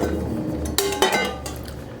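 Filling is spooned from one bowl into separate bowls, giving a few close metallic clinks and knocks of a utensil against the bowls amid quiet kitchen background.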